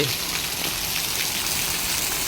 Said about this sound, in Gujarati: જુઓ વરસાદ પડી રહ્યો છે અને હાધાર વરસાદ આવી રહ્યો છે